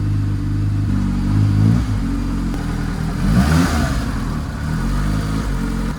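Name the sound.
car grinding gears, clutch cable not fully disengaging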